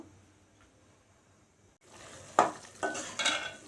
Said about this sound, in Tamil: இப்போ இது நல்லா கொதி வரட்டும்